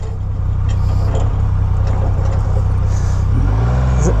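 A 2021 Triumph Rocket 3 GT, carrying the largest production motorcycle engine, idles close by with a steady deep rumble and fine rapid pulsing, joined by a brief rising rev toward the end.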